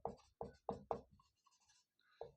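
Chalk or pen strokes on a board during a geography lesson, four sharp rhythmic taps followed by lighter scratchy strokes and a final tap, close and clear with no speech.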